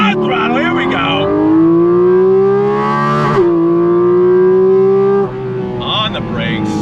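2023 Porsche 718 Cayman GT4 RS flat-six accelerating hard on throttle, heard up close as a loud rising engine wail through the gears, climbing in pitch, dipping at a shift, then climbing again.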